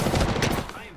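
Video game gunfire: a dense, loud burst of rapid shots filling the first half second, then tapering off into quieter background noise.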